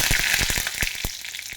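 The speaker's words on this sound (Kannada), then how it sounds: "ಈಗ ಒಂದು ಒಗ್ಗರಣೆ ಕೊಡೋಣ." Mustard seeds and curry leaves hit hot tempering oil for a cucumber sambar: a loud, close, steady sizzle with sharp crackling pops spaced through it, and no voices.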